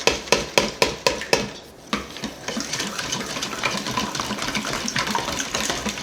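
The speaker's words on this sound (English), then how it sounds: "And whisk this up." A whisk stirs salt into liquid in a bowl for bread dough, opening with a few sharp taps against the bowl's rim, then settling into a continuous close, wet whirring.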